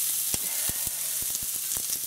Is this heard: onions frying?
yes